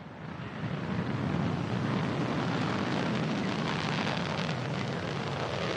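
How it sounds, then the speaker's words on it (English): Soyuz booster lifting off from Baikonur with the Progress 58 cargo ship, a loud, steady wide-band rocket roar that builds within the first second and holds, rumbling and windy, with no voices. "Ignition and liftoff. Liftoff of the Progress 58 cargo ship"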